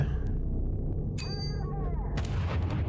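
Grenade blast in the horror resource-management game Anoxia Station, a sharp crack with ringing metallic tones that fade, followed by a second rougher burst over a steady low hum.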